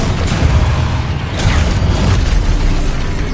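Spell explosions in Hogwarts Legacy, heavy booming blasts and crackling bursts in quick succession with a deep rumbling low end, loud and close, no voices.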